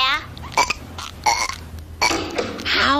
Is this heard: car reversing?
no